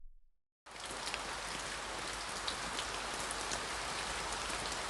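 A heavy rainstorm bursts in after a brief silence, then pours down in a dense, loud, unbroken hiss of rain on surfaces.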